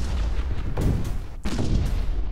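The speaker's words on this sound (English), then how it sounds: "Cleared enough with our artillery fire shots hitting them that the point defense is able to take out almost all the missiles coming in." Heavy artillery fire in the space strategy game Stardrive 2, with two deep booming salvos rolling in one after another, loud and alone with no talk.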